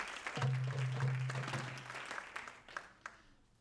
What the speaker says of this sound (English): Clap for them, yes, absolutely.